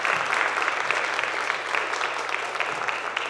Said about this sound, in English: let's help me give a round of applause for our panelists